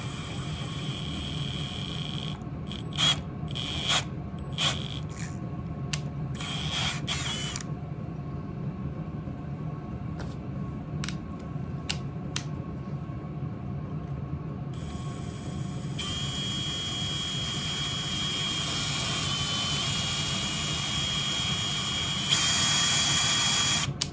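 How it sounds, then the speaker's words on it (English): A drill turns an M4 x 0.7 tap to cut a thread during a coil swap on a Homelite VI 200 Husky chainsaw. A steady motor whine alternates with short start-stop bursts, close and moderately loud. "Just gonna chuck this in the drill because I'm pretty lazy"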